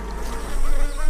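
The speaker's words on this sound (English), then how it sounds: "there are lots of bees out there pollinating and fertilizing flowers" Bees out among flowers, pollinating, make a steady, close buzzing drone that swells slightly louder toward the end, with no voices present.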